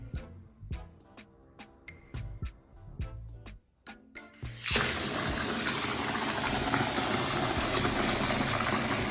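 Water gushes into a container until it is half full: a run of sharp knocks and taps comes first, then a loud, steady rushing pour from a tap fills the second half of the clip.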